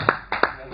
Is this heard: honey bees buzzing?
no